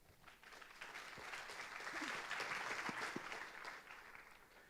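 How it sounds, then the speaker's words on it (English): An audience at a high school students' conference claps steadily after a speech, the applause swelling and then holding full for several seconds before easing slightly. "please join us for another big round of applause for Dr. Chen's amazing speech"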